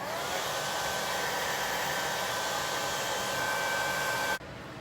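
A blow dryer running on a wig, loud and close. Its steady whooshing hum holds constant for several seconds, then cuts off abruptly near the end.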